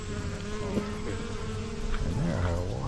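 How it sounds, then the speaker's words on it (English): Bees buzz steadily and close among the flowers of Butchart Gardens, a continuous droning hum with a few individual insects swelling louder as they pass near. "Now there's some normal sized bees."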